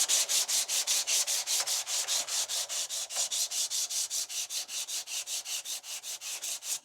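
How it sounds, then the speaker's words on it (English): Steady back-and-forth hand sanding of a wooden tack hammer handle, a rhythmic series of close, even rasping strokes at a regular pace with no talking. "You can just alternatively just sand it by hand like this and get your profiles right"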